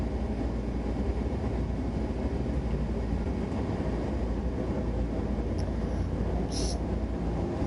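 Steady, broadband rumble of an intermodal freight train rolling past in Train Sim World 5, continuous and loud throughout with a brief high-pitched squeal near the end.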